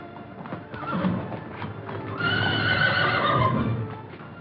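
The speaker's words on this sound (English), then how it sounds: "Best horse I ever owned." A racehorse neighs loudly and its hooves clip-clop in a period Sherlock Holmes mystery setting. A long, close whinny rises over a continuous shuffle of hoofbeats, with no talk.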